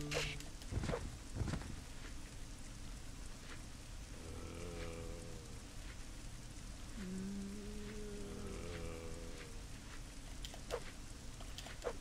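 Rain falling in the video game Resident Evil Code: Veronica X, a quiet steady hiss of rain with scattered sharp impacts and low groaning calls in the background, faint overall.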